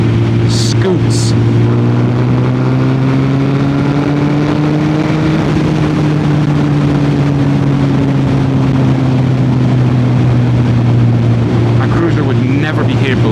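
Suzuki Hayabusa Gen 2 motorcycle engine at highway speed, a steady loud drone with a smooth low hum that holds nearly constant throughout, mixed with rushing wind noise and a voice talking over it.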